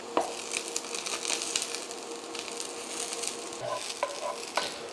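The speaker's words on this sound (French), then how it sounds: "on n'oublie pas de mélanger" Mushroom risotto being stirred in a pan, with moisture from the mushrooms and leftover morel juice, a close, continuous sizzle under repeated scraping strokes of the spoon, fairly quiet and without voices.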